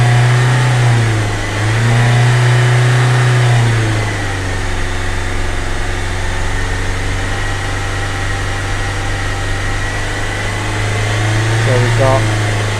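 A warmed-up Freelander TD4 diesel with a BMW M47 engine is held at a raised rev of around 3000 rpm, a loud steady drone that dips and rises slightly, heard up close with someone talking over it.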